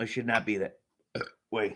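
A short burp or hiccup after drinking Colt 45 malt liquor, a brief throaty burst set between a man's spoken phrases, close and fairly loud.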